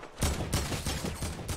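Fortnite gunfire with an AK being hip-fired while jumping: a dense, noisy burst of shots that stays loud through the whole short stretch, with a couple of stronger hits inside it and no talk.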